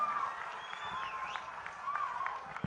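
A political rally crowd applauds and cheers in a steady, distant wash of clapping, with a voice carrying faintly over it.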